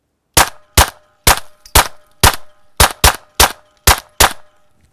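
Ten suppressed shots from a SilencerCo Maxim 9 pistol fed by a Glock magazine, sharp close cracks fired in a quick uneven string with short gaps, loud and clear with no voices.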